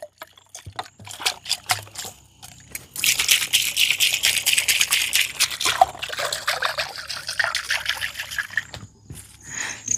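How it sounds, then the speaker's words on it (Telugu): Empty Sprite tins are rinsed clean with water before cooking chicken in them, steady trickling and splashing mixed with light metallic rattles of the cans, close and continuous with no talking. "ముందుగా అయితే అండి టిన్నులన్నీ వాటర్తో క్లీన్ చేసుకుందామండి"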